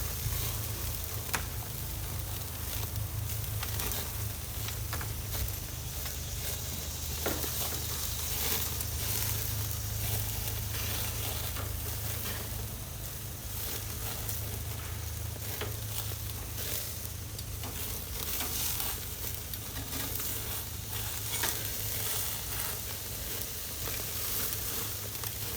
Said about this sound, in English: I'm gonna flip them bacon side down.